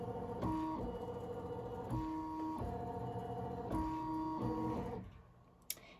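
An embroidery machine stitching a quick alignment test on a Dollar Tree oven mitt whirs in a rhythmic, repeating mechanical pattern of buzzing stitch bursts, then stops with a single sharp click near the end.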